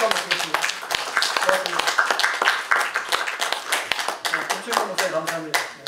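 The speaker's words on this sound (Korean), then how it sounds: "박수 한번 드리겠습니다" An audience at a church assembly workshop claps, scattered sharp hand claps spread throughout alongside ongoing talk from a speaker at a lecture.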